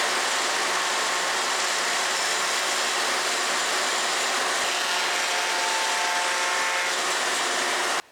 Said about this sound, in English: I'm going to go ahead and try it on the speed increaser since it's set up anyway